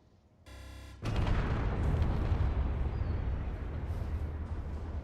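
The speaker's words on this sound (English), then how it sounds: "Here it comes, first missile" A missile striking a fighter in a game, a dull whoosh followed by a sudden loud explosive blast that turns into a sustained rumbling roar of burning and debris.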